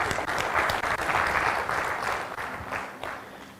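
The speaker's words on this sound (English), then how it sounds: "Please give him a nice round of applause." A steady round of applause from an audience at a talk, many hands clapping densely at moderate loudness for several seconds, slowly thinning toward the end.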